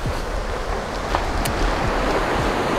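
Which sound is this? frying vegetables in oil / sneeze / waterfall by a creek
waterfall by a creek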